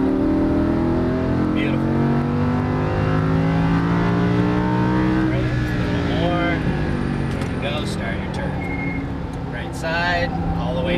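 A Lamborghini Huracan LP610-4 accelerates on a race track, its engine note climbing in a sustained rising sweep heard from inside the car, with a voice talking over it.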